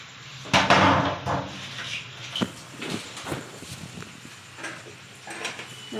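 Chowmein being stirred and tossed in a pan over a gas flame, giving irregular scraping knocks and utensil clatter close by, with a faint background hum.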